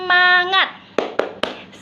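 Three sharp claps, evenly spaced, follow a short sung or chanted voice; crisp and close, with quiet room tone between.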